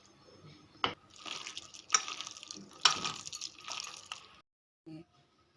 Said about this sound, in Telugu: కొంచెం వాటర్ సరిపడగా వేసుకోవాలి.